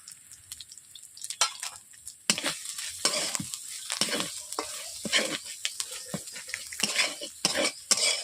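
Ground chili powder and turmeric sauté with beans, potato, eggplant and carrot in a pan, giving close, continuous sizzling with repeated scraping and clinking of a spoon against the metal.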